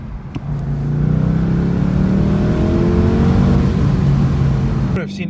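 A BMW M850i engine accelerates hard and steadily, its rising tone stepping through quick paddle-shifted gear changes at close range, loud and continuous for about five seconds.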